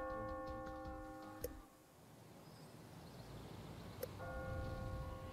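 Bell tones from the Catherine video game ring out in two sharp struck chimes with sustained ringing harmonics, quiet and distant against soft background noise.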